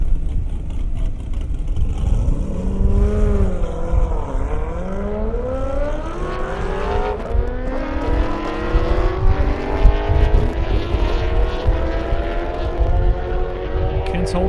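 Kawasaki ZX10 motorcycle and Corvette Z06 race side by side down an airstrip, engines loud and close, revs climbing through repeated rising gear pulls with shifts between them.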